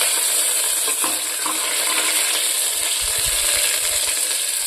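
Chopped onions stirred in a pressure cooker for potato curry, a continuous hiss of frying with a few soft metallic scrapes and knocks from the spoon, close and fairly loud.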